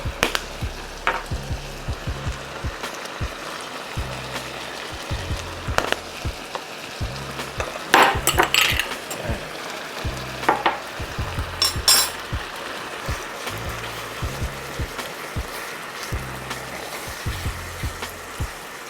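Caribbean shrimp pasta sauce with allspice, thyme and green seasoning reduces and sizzles steadily in a pan, a continuous close frying hiss with occasional louder spits and stirring clatter.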